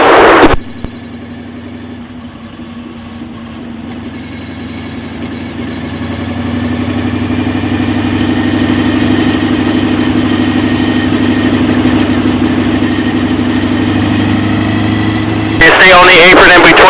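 A race car engine pulling off pit road on an oval track hums loudly and steadily, its pitch rising gradually as it picks up speed, with a voice briefly heard at the start and end.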